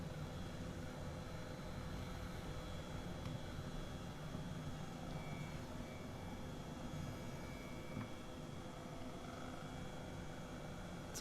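An aircraft engine in Microsoft Flight Simulator drones steadily and faintly, a continuous hum with a slight hiss that barely changes throughout, with no talking.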